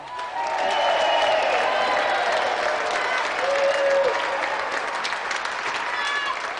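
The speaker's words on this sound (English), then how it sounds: "So let's have another round of applause for our two brilliant competitors, Mavis and Matthew John Minor." A studio audience at a televised game show breaks into sustained, loud applause that swells quickly and holds steady, dense clapping from a crowd with no voices on top.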